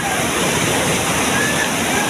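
Jambhali waterfall in Korchi rushing down under heavy pressure, a dense, loud, continuous roar of falling water that fills the whole clip with no break.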